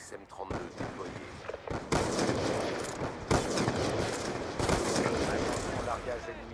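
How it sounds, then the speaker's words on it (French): An XM32 grenade launcher fires in a competitive online shooter match. Loud, heavy broadband blasts land at irregular intervals, about every one to two seconds, within a dense, continuous wash of battle noise. "Lance-grenade XM32 déployée."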